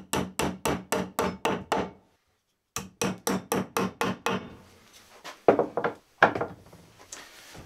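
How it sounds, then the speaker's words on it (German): Wooden dowels hammered into a coffee bar under construction, with two bursts of sharp, evenly spaced hammer blows, six then six again, separated by a short pause, followed by looser knocks and taps. "Jetzt mache ich die Dübel rein"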